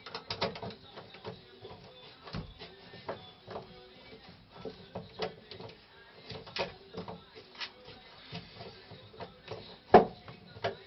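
A ratchet wrench works at a stuck bolt, close rapid clicking in irregular bursts with a sharper clank near the end, fairly quiet overall.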